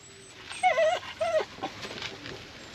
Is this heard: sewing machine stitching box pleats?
no